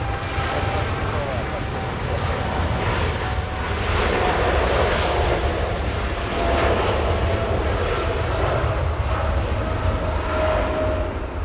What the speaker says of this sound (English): We have the Dreamliner getting a move on